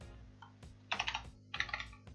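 Computer keyboard typing in two quick clusters of clicks, close and fairly quiet, with short pauses between bursts and no speech.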